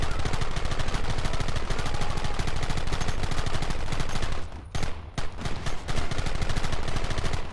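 Sustained rapid gunfire in a Red Dead Redemption ranch shootout, dense overlapping shots and bursts filling the whole stretch, with a brief lull near the middle before the firing resumes just as heavily.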